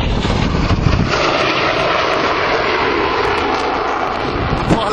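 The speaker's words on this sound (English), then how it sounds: "The Typhoon is coming straight across now, over the runway, wanging it along." An RAF Typhoon jet sweeps low across a runway, a dense, continuous roar that fills the scene loudly and evenly from start to finish, with no voices heard over it.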